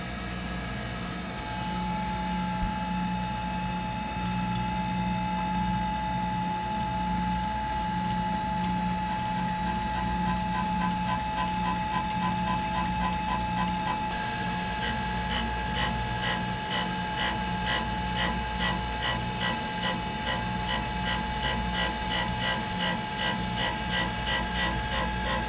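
Steady grinding of a saw vise front on a Do-ALL bandsaw being restored, a continuous mechanical whir with a rhythmic ratcheting pulse that runs the whole time and grows denser partway through, with no one talking.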